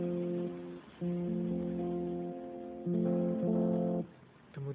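Basic open chords on an acoustic guitar ring out in three strummed blocks, each held with clear sustained tones before the next, played close and alone at moderate volume.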